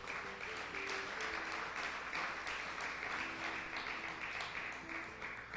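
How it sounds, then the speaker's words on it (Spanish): A congregation at a Messianic Jewish service applauds visiting brethren from Venezuela, with a steady, dense wash of clapping that holds at an even level throughout, with no voices standing out. "Démosles un aplauso."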